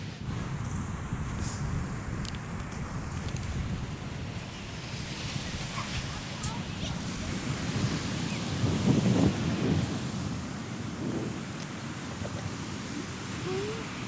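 Waves and wind at a beach make a continuous low rumbling surf with gusty wind noise on the microphone, a steady broad wash that swells slightly midway.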